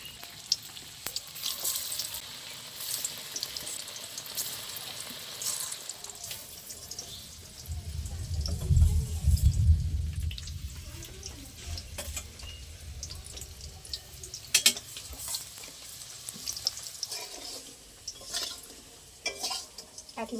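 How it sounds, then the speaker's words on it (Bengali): Raw banana koftas fry in oil, a long crackling sizzle with scattered pops and occasional utensil clinks, plus a brief low rumble midway, close and alone without talk. "এবার বাকিগুলো একই রকমভাবে ভেজে নেব।"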